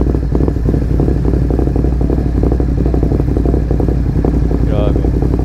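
Ducati Monster 937 motorcycle engine running close by, a steady loud rumbling idle with a crisp, throbbing exhaust note, with voices talking over it.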